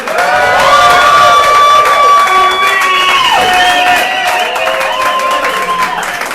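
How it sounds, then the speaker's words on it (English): A large comedy audience in Austin applauds and cheers loudly and continuously, with whoops and shouts rising above sustained clapping. "Keep that applause going"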